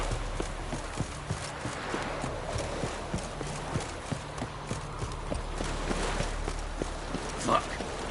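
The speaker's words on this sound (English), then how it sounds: "Horses." Hooves of horses in a PS4 video game clip-clop at a steady walking pace, with a voice speaking briefly over the rhythmic clatter.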